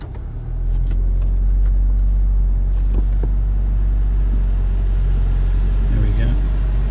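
A wrecked 2013 Mazda 6 with front-end damage starting up, a sudden low engine rumble that settles into a steady, loud idle heard close, with someone talking over it partway through.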